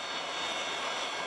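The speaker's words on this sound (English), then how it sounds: "With a whine and a roar, the FedEx jet landed last October" A retired FedEx Boeing 727 jet landing, a steady high engine whine over a broad roar, loud and continuous for about a second.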